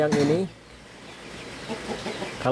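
Chickens clucking at a small home farm, faint and scattered in the background after a person speaks briefly at the start.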